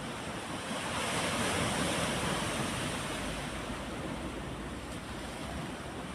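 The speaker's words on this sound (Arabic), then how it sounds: "بصوا الموج عامل ازاي، واخدين بالكم؟" Sea waves roll and wash continuously along the Alexandria corniche, a loud broad surf roar with wind buffeting the microphone and no one speaking.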